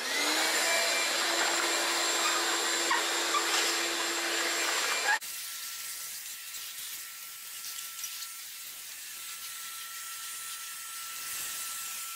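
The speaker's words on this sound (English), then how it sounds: "If you need to clean the tray, just vacuum or just remove the husk," A vacuum cleaner cleaning the husk tray of a RoboSugar Twin Auto 20 sugarcane machine runs loud and steady for about five seconds, then drops to a quieter, lower drone that continues to the end.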